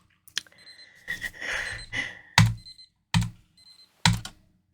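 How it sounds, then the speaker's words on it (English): Keyboard-like clicks and thunks in a fan-made video game, a few separate sharp hits spaced over several seconds, with a brief ringing burst early on, fairly close and alone. "I put my hand back from the alarm clock, which is finally quieted down."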